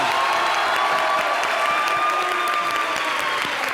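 Dense, steady applause from a television studio audience, continuous clapping at constant loudness throughout with a faint cheer mixed in.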